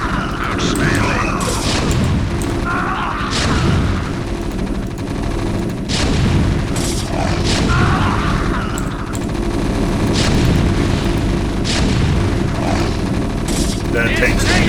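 Dense, continuous battle din from a StarCraft Terran campaign against Zerg and Protoss: tank artillery booms and explosions pile up over steady gunfire, loud and unbroken throughout, with occasional unit voice lines mixed in.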